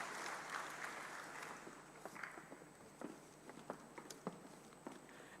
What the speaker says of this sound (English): give all the recipients another round of applause